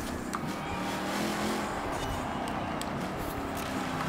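A modified tractor built for track use drag racing in Forza Horizon 4, its engine droning and revving steadily throughout with a constant mid-level roar and no talk.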